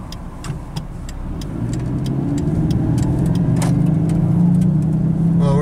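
A turbocharged PT Cruiser convertible pulling away from a stop and driving off, the engine note rising steadily and growing louder as the car gains speed, heard from inside the car without speech.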